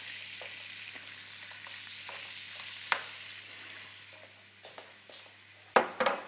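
Minced meat frying in a pot, a soft continuous sizzle with a few sharp utensil knocks and scrapes, the loudest clatter near the end.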